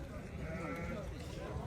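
Sheep and lambs bleat at a crowded livestock market in Sokuluk, overlapping calls close by under a steady din of people talking and bargaining.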